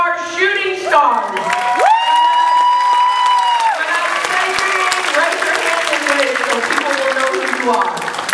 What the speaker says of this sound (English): I want you to acknowledge and clap well for the shooting stars